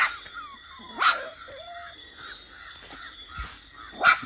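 Abandoned young puppies whimper and yelp outdoors in short high cries spread across a few seconds, with crows cawing nearby and faint outdoor background.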